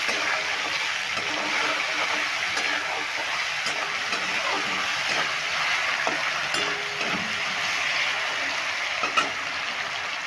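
Lau (bottle gourd) and chana dal sizzle steadily in a pan as they are stirred after salt goes in, with occasional scrapes and clinks of the spoon over the continuous frying hiss.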